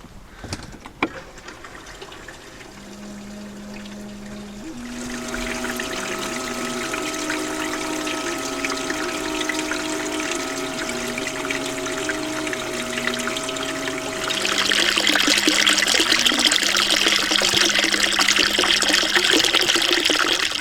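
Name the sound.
bilge pump pumping water out of boat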